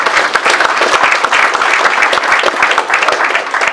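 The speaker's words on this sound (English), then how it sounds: "So a big round of applause for Liam, because he did it with me" Loud, close audience applause with sharp individual hand claps in a full, steady burst that continues throughout.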